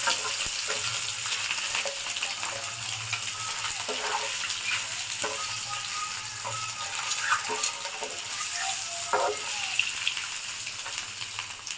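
Boiled egg pieces fry in masala in a pan for an egg curry, with a continuous close sizzle and crackle. Spatula stirs and scrapes break in at uneven moments over a low background hum.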